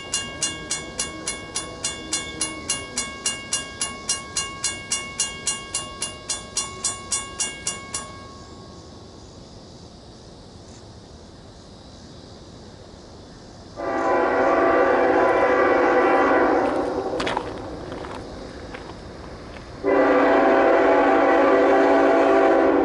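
A crossing bell rings rapidly at first, then a coal train rumbles past, sounding two long, loud horn blasts.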